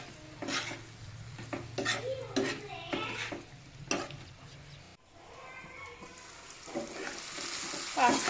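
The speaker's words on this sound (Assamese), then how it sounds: "এতিয়া মই দিম ইয়াত বইল কৰি থোৱা পাস্তা। ভালদৰে মই মিক্স কৰি লওঁ।" Boiled pasta being stirred with spice masala and vegetables in a pan, with scraping and clinking of a spoon against the pan over a faint sizzle, close and intermittent.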